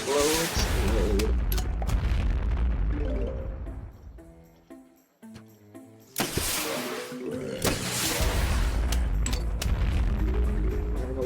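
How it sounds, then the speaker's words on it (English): Explosions in the video game Plants vs. Zombies, heavy booming blasts in dense clusters with a quieter stretch of game tones between them, loud and close. "Lots of explosion noises, huh? Explode, explode, explode."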